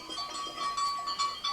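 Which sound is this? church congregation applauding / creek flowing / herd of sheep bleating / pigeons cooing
herd of sheep bleating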